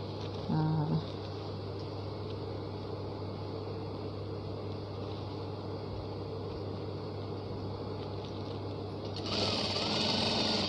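A sewing machine stitches fabric with a steady, continuous whirring hum that runs unbroken throughout and brightens and grows slightly louder near the end.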